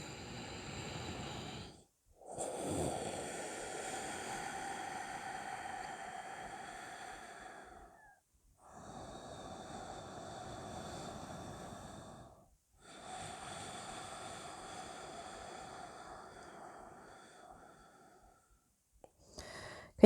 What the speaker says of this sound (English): the ujjayi breath, which I spoke of, is this kind of sound. And I love this breath because it feels like the ocean